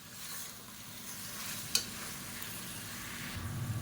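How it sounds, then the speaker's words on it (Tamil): A masala mixture with turmeric powder is sautéed in a pan, giving a soft, steady sizzle with a faint stir, one brief knock near the middle and a slight rise in frying noise at the end. "லேசாக வதக்கி விட்டுக்கலாம்."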